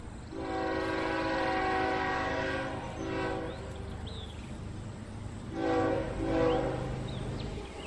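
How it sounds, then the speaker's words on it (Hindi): A cartoon train runs on its rails, its loud horn sounding in two long harmonic blasts over a steady rumble of wheels, with no one speaking. "मुंबई के लिए एक ट्रेन पकड़ लेते हैं"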